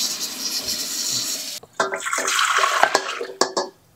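Warm water poured from a container into a bowl for cinnamon roll dough, a steady splashing stream that starts after a steady hiss, with a few knocks and clinks as it settles, close by and alone.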